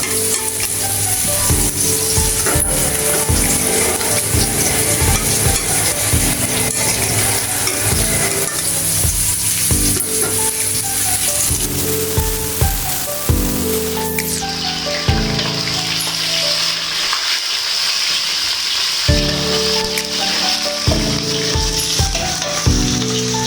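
Teasel gourd and potato pieces frying in oil in a pan give a loud continuous sizzle with repeated stirring and scraping strokes, and no voices over it.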